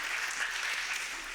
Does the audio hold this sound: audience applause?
yes